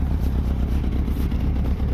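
A Fiat Brava engine idles steadily with a low, even mechanical rumble and a faint uneven flutter from a burnt-through exhaust, heard close with no talking.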